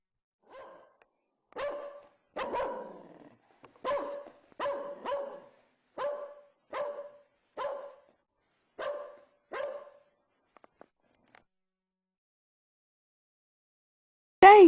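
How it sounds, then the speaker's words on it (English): A dog barks repeatedly in a steady series of about a dozen sharp barks, fairly close, then falls quiet before a brief high sound at the end. "The dogs are barking"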